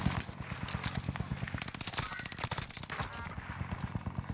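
Gunfire in a Call of Duty-style game using an Armaguerra weapon class: fast, rhythmic automatic shots run throughout at steady volume, with a brief voice heard among the bursts.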